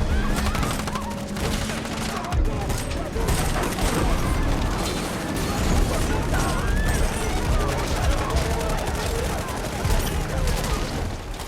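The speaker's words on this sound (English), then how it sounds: "They engage in a crossfire" Gunfire in a crossfire scene from the action film The Accountant 2, with brothers firing military-grade weapons at guards. Dense, continuous shots and crashes pile into a loud, unbroken barrage that runs through the whole stretch.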